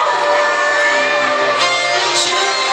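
A concert crowd in a rock section screams and cheers for a Taiwanese pop singer, a loud, dense wall of shouting and whooping that holds steady throughout with swelling bursts near the end.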